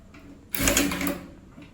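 An Orbito sewing machine stitches in reverse in one short mechanical burst of about half a second, close and fairly loud, with quiet room tone before and after.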